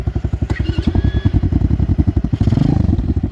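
A cheap dirt bike engine idles with the choke off, a rapid, even popping putter close by, with a slight scrape and clatter near the start and a brief rev toward the end.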